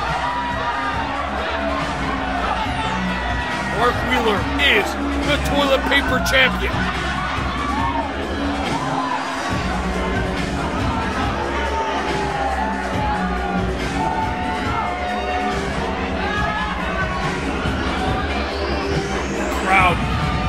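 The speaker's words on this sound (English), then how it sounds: "you can hear the crowd chanting" A wrestling crowd at a Rumble in the Dot 2021 event chants, shouts and cheers in a loud, continuous roar of arena noise, with a voice talking over it.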